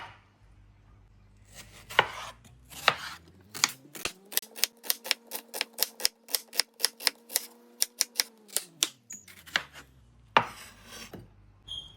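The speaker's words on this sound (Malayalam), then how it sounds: "2 സവോള നമുക്ക് കനം കുറഞ്ഞ് നീളത്തിൽ ചെറുതായിട്ട് കട്ട് ചെയ്തെടുക്കാം." Two onions are sliced thin and lengthwise with a knife on a cutting board, the blade tapping in a quick, even run of sharp, close strokes that speed up in the middle and then slow again.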